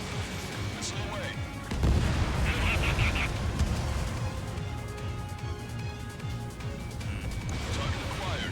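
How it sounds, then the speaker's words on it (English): A missile launching from an ADA-01A Adler jet in Ace Combat 7, a burst of whooshing roar rising out of steady engine rumble, with radio voices talking over it. "Missile away."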